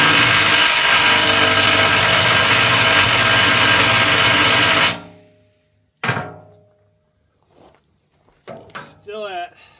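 A Milwaukee M12 Stubby 2563-20 impact wrench tightens a fastener in a loud, continuous rattling hammer for about five seconds, then stops; a brief knock follows, and a voice speaks near the end.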